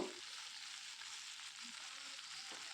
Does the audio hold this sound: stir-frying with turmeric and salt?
yes